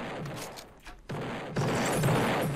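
Repeated explosions rip through buildings in the Roblox game Destruction Simulator, a loud, dense, continuous roar of blasts and crumbling debris that swells after a brief dip.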